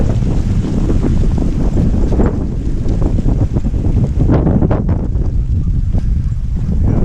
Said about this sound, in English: right as the wind blows